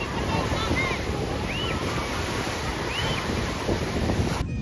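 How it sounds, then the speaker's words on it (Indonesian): Waves washing onto a beach and afternoon wind buffeting the microphone, a loud, steady surf roar with a few faint high chirps and no clear talk. "saatnya kita mandi-mandi di pantai sambil menikmati angin sore"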